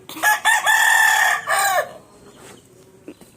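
An Aseel rooster crowing once, a loud close crow lasting nearly two seconds, followed by quieter background clucks.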